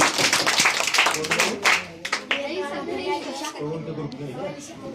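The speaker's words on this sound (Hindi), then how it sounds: "इनको ताली बजाइए" Schoolchildren clap together in a classroom after a right answer in an oral history quiz, a dense burst of hand claps at the start that thins out, with a teacher's voice and children talking over and after it.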